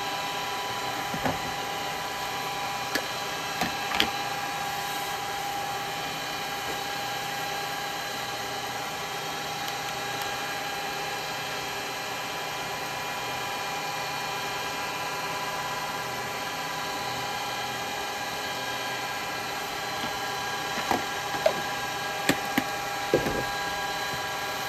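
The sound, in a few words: sandpaper sanding yew wood turning on a lathe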